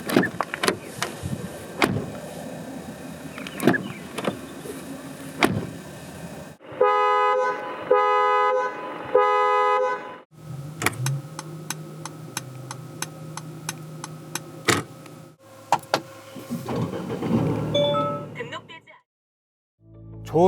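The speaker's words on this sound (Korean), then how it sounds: "잠시 이 250이 들려주는 감성 측면의 소리를 들어보겠습니다." Assorted cabin sounds from a 2021 Mercedes-Benz E250: sharp clicks and thumps, repeated chime tones, an electric motor whirring and a ticking indicator, each separated by short pauses.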